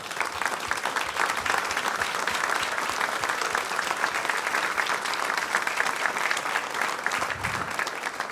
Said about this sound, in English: I would like to honor you and give a round of applause to our committee.